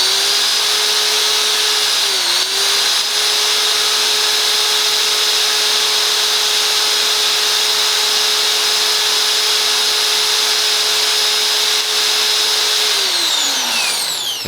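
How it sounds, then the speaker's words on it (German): An electric drill runs powered by an Anker Solix C1000 power station, a loud close steady motor whine held for over ten seconds with a brief dip early on, then winding down at the end. "Und wenn wir jetzt mal die Bohrmaschine anschließen beziehungsweise laufen lassen,"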